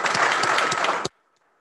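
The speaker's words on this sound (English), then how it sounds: "Let's give them a round of applause" Audience applause at a city commission meeting, a short burst of brisk clapping from a room of people that stops abruptly after about a second.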